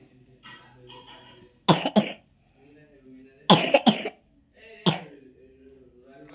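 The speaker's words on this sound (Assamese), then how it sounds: "কাহ নুগুচিছে" Three sharp, harsh coughing bursts, close by, spaced a couple of seconds apart, with quieter talking in the gaps between them.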